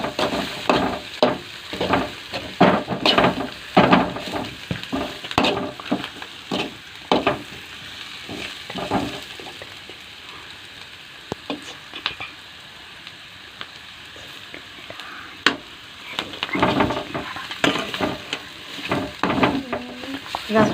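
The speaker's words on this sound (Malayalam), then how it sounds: "നമുക്ക് നന്നായിട്ട് ഇളക്കാം." Sliced onions coated with turmeric, chicken masala and garam masala are stirred in a frying pan, giving repeated scraping strokes and soft sizzling bursts over a long stretch, with a faint background murmur.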